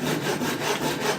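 A hand saw cuts through thick wooden plank stock, giving a continuous rasping scrape with quick back-and-forth strokes, close and loud with no talking.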